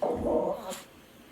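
A dog gives a short bark and whimper, near and moderately loud, with a brief higher yelp toward the end before it fades out.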